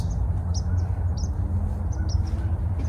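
White-throated sparrow and swamp sparrow calls sound outdoors during a winter Christmas Bird Count: brief high chirps repeat faintly at a distance over a steady low rumble of wind and background noise.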